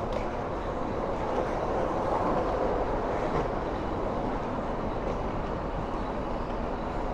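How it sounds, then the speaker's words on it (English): Low continuous rumble of a Link light rail train passing at moderate distance near SeaTac, a steady rolling roar that holds throughout without voices. "there's a train coming there, left-hand side, coming from Seattle"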